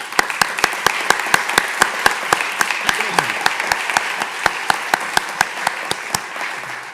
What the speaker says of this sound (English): just want to give one last round of applause to Mrs. Bush and to our partners